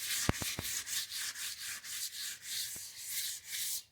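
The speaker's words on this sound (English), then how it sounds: "I don't do a whole lot of sand, just a little bit, just enough to take the shine off" Folded sandpaper is rubbed by hand over a wooden solar light post in quick, rhythmic back-and-forth strokes, a close scratchy swish repeating steadily, with a few sharp taps near the start.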